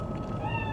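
A short cat meow in the video game Cyberpunk 2077, one rising tonal cry over a low hum of game ambience.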